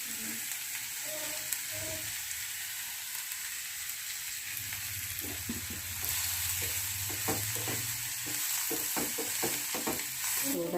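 Onions and figs for a Kerala fig thoran sizzle steadily in a pan while being stirred, with scraping strokes that grow busier and louder in the second half.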